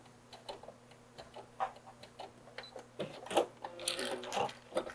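Sewing machine back stitching fabric in short bursts of quiet rapid ticking, pausing and restarting, with small clicks and handling noises growing busier toward the end.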